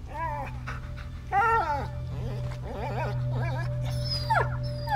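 A dog in A Plague Tale: Innocence whimpering and whining in short pitched cries, several plaintive yelps over a few seconds above a low steady rumble of background ambience.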